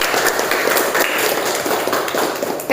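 Students in an Indonesian classroom clap for the trombosit group as a steady, dense patter of many hands that fills the room evenly and continues throughout.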